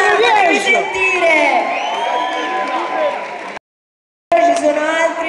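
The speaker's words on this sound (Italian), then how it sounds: "Un applauso a Remia" An audience at a Gamecon cosplay stage show cheers, whoops and shouts for a cosplayer, loud and crowded with many excited voices, briefly cut to silence before the noisy cheering resumes.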